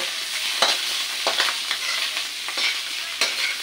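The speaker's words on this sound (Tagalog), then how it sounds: "Yan, lagay ko na yung karne." Pork meat dropped into a hot frying pan for pork caldereta, a continuous bright sizzle with several short scrapes and clatters of stirring, close and fairly loud.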